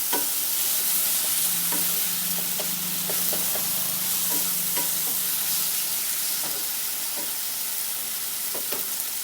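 Tomatoes and spices frying in oil in a pan while being stirred for Bengali masoor dal, a steady close sizzle and hiss with scattered spoon scrapes and light clinks throughout.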